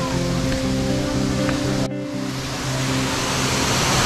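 A waterfall at Scott's Run Nature Preserve, heard from the top of the falls as loud steady broadband rushing water, with a low hum or engine-like drone running through the first half.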